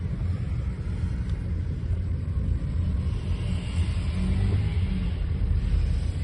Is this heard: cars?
yes